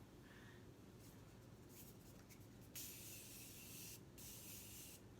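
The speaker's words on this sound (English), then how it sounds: "I'm just going to spray my face real quick." Several short, soft bursts of setting spray mist hiss close by onto a face over a low background rumble, with no talking.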